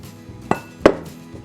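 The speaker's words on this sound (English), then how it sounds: "Now we get over top of the bowl, and then we're going to just stir that together somewhat" A spoon knocks twice against a bowl while stirring biscuit dough of flour, water and oil, producing two sharp, close clinks about a third of a second apart over a quiet background.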